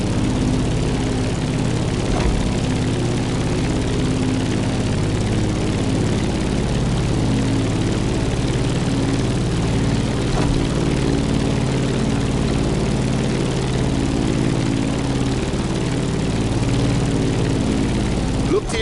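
A propeller aircraft climbs in the driving game The Crew Motorfest, its engine a steady, loud drone with layered low harmonic tones that hold constant throughout, with no breaks or talking.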